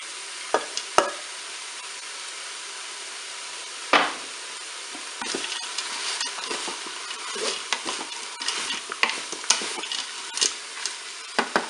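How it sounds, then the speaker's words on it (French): Green beans tossed and stirred in a hot Cookeo multicooker pot, sizzling softly with a few sharp utensil clicks, then a busier stretch of scraping and clatter. "Là, je vais ajouter mes haricots verts."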